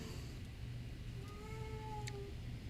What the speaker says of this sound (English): And that's my cat deciding to say hello to everyone.